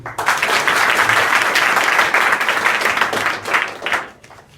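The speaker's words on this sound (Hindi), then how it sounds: "ताली बजाइए" Audience of students and guests at a school event in Azamgarh clapping loudly together, a dense sustained burst of applause that fades out near the end.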